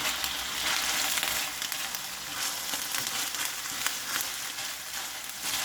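Green curry paste fries in coconut cream, a dense, close, continuous sizzle with crackling spatter and small irregular pops, heard alone without talking.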